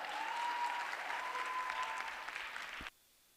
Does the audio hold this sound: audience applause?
yes